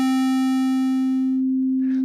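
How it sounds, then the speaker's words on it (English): A synthesizer tone with a square wave on one oscillator gradually morphs toward a pure sine wave, its bright buzzy harmonics fading away to leave a smooth steady tone, with a short burst of noise near the end. "Let's put a square wave on oscillator A and keep the sine wave on B and drag"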